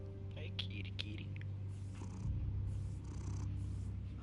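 A cat in the Telltale Batman video game purrs softly and steadily under low background hum, with a few brief higher sounds early on and soft breathy noise later.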